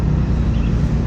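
A motorcycle idles steadily at close range with a low, continuous rumble, with no voices over it.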